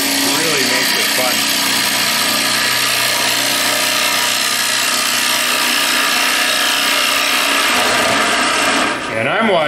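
Wood lathe spinning a bowl while a carbide hollowing tool cuts inside it, a loud continuous scraping roar with a steady motor drone, close and sustained throughout with a slight dip near the end.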